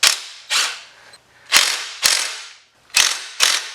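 A tool loosens the T40 bolts on a Jeep CJ7 AMC 20 differential cover. Six sharp metallic cracks and ratcheting bursts come in pairs, loud and close, each decaying quickly, with no talk.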